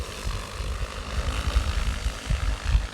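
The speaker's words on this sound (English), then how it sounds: "drone should be taking off any second" An XAG P150 agricultural drone lifts off with a loud, steady propeller roar, its rotors churning with a low pulsing throb close by.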